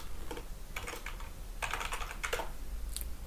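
Brisk typing on a computer keyboard while entering SQL Server table data, with short clusters of close, crisp key clicks separated by brief pauses and no talking.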